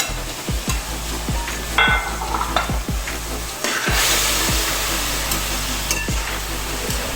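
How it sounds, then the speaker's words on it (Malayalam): Precooked beef being stirred into a pan for Kerala beef roast, a loud steady fry with repeated sharp scrapes and clacks of a spoon against the pan at an uneven rhythm. "ബാക്കി നമുക്ക് വേവിച്ച് വെച്ചിരിക്കുന്ന ബീഫ് ഇതിലേക്ക് ആഡ് ചെയ്ത് കൊടുക്കാം. എന്നിട്ട് നന്നായിട്ടൊന്ന് മിക്സ് ചെയ്തെടുക്കാം."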